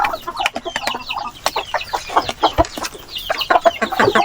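Brooding hens on a mini farm cluck and murmur nearby in a busy, overlapping chorus of short calls, with no talking over them.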